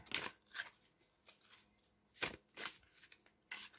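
Cards shuffled for a spiritual card reading: several crisp riffling bursts with brief pauses between them, close and fairly quiet, no talking.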